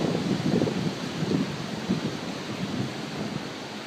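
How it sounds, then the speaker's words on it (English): Strong gusting wind during a big storm on an off-grid farm, a loud continuous roar with heavier surges rising and falling, and no voices. "Boy, it's gusting too, big time."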